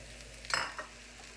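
Mushrooms drop into a frying pan with charred onions, giving one quick close burst of sizzle and a scraping stir that fades within a second against quiet background.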